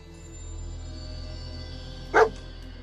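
Dogmeat, the dog companion in Fallout 4, gives a single short bark close by over a low steady game ambience, with no talk.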